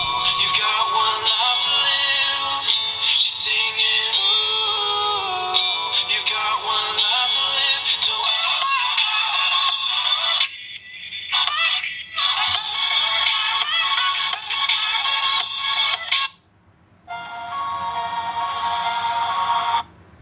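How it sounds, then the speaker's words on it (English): Media audio, apparently music, plays steadily through the small built-in speaker of an ET310 smartwatch, with two brief dropouts near the end. It sounds thin and bright, with little low end. "The media sound will be forwarded to the watch, and here is the speaker quality of"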